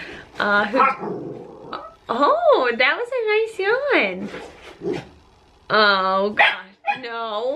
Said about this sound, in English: you might hear some puppies barking in the background because I got two little ones